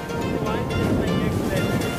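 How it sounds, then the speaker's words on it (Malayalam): Strong sea wind blows steadily across a coast, a dense, continuous roar like wind buffeting the microphone, mixed with a wash of surf, with no break over the whole stretch. "നല്ല കാറ്റ് വന്ന് നല്ല കാറ്റടിക്കുന്നുണ്ട് മൊത്തം നല്ല കാറ്റ് കടൽ കാറ്റ്"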